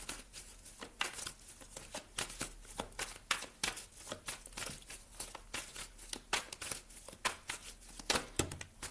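Tarot cards are shuffled and drawn close up, giving a rapid run of crisp riffles, flicks and papery slaps in uneven bursts, with no talking.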